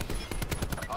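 Rapid automatic gunfire in Black Ops 4 multiplayer, a quick string of close, loud shots filling the moment.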